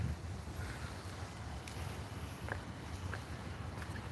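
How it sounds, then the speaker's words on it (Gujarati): Steady cold evening wind rushing and buffeting in Chicago, a continuous low roar with a couple of faint distant clicks, no voices. "એકદમ મસ્ત ઠંડો પવન આવી રહ્યો છે"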